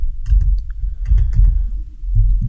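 Keystrokes on a computer keyboard entering the UCS command line, a quick run of close, light taps and clicks over a low background hum, no voices.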